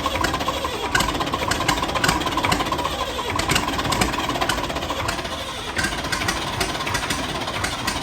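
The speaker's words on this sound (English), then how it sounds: "It's like a traction engine." A heavy old tractor engine chugs and runs steadily at close range, with rough knocking rhythm throughout and some outdoor noise around it.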